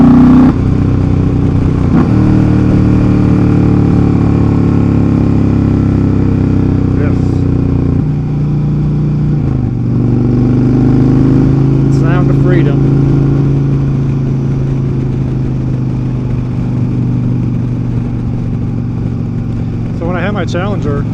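A motorcycle fitted with KST Customs 14-inch Comanche aftermarket exhaust rumbles loudly and close, with deep sustained engine tone and rises in revs, heard alongside someone talking.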